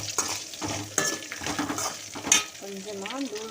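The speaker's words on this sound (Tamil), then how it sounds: "ஒரு 5 மினிட்ஸ் அல்லது 8 மினிட்ஸ் வந்து நல்லா வதக்கிட்டே இருக்கலாம்" Okra (lady's finger) sautéing in a pan as it is stirred: soft scraping and light clinks of a utensil over a low, close sizzle, with a brief tonal sound near the end and no clear talking.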